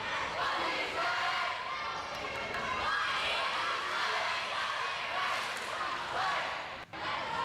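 Fremd girls varsity volleyball players cheer in a gym during a match against Palatine, a continuous blur of shouting voices with a crowd murmur underneath and a voice talking over it.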